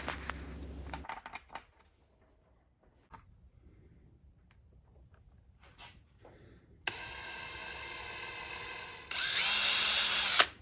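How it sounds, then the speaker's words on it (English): Bursts of a power drill whirring in short spells while drilling through leather, separated by quiet handling clicks and taps, with a louder, harsher drilling run at the end. "it's time to punch it to make sure that we're drilling in the right spot."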